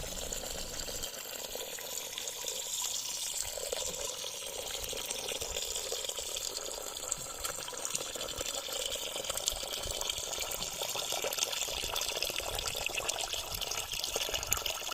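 Running water splashes and gushes steadily as millet grain is rinsed, with a continuous hiss and occasional sloshing throughout.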